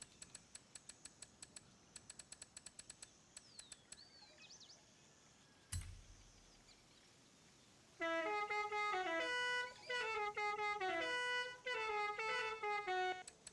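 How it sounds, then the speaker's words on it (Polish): Musical car horns in Forza Horizon 5 play as bright tonal melodies for several seconds, following a run of short rapid clicks and a thump, loud and clear with no talk. "Klaksony muzyczne."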